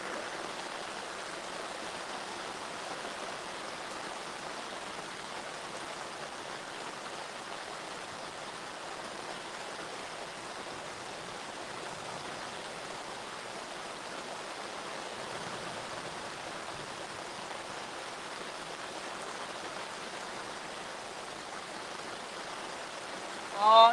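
Heavy rain pours steadily throughout, a dense broadband hiss with no letup, likely falling around a riverbank while fishing for catfish, ending with a brief louder burst at the very end.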